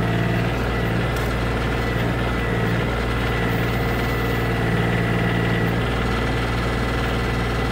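Engine of a 2019 Kioti CK2510 HST compact tractor idling, a steady, loud low rumble with constant vibration that holds unchanged from start to finish, heard close and alone.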